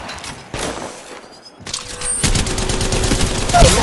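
Automatic weapon fire in the mobile battle royale shooter Apex Legends Mobile: a burst, a brief lull, then sustained loud rattling shots that build toward the end, with a faint electronic tone in the background.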